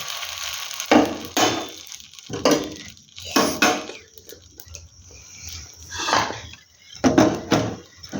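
A spatula scrapes and taps against a pan while flipping an egg roll, giving several clattering bursts of metal contact separated by short pauses, close and fairly loud, with no talking.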